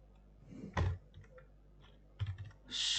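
A few quiet, sparse keystrokes tap on a computer keyboard, with short clusters of clicks separated by pauses, close and faint, without any talk.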